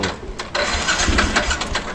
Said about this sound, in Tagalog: Yun, umandar ang motor.